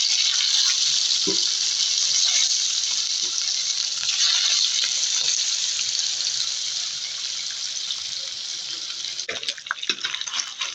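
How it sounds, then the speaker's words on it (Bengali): Rohu fish pieces rubbed with turmeric, chili and salt frying in oil in a pan, a steady loud sizzle throughout with a few small pops and clinks near the end. "এখন আমি মাছটি ভেজে নেব"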